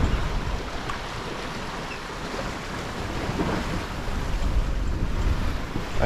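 Big ocean waves surge and wash around a sailboat on open sea en route to the Faroe Islands, a constant rushing roar mixed with buffeting wind noise on the microphone.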